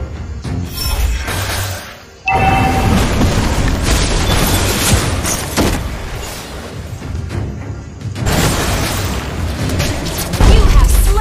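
A turret being destroyed in the Mobile Legends video game: heavy, booming blast effects pile up in a loud, dense barrage, broken by a brief lull near the start, with game voice lines over the din.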